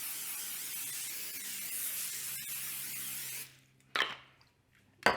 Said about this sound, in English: I'm going to go ahead and lightly spray this with some olive oil cooking spray